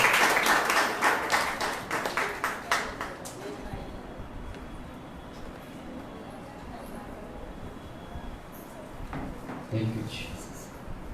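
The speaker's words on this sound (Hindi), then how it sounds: "आइए उनका जोरदार ताली के साथ में स्वागत करें।" Church congregation applauding during a Sunday service, a burst of claps over the first few seconds that quickly fades into low room noise and murmuring, with faint voices later.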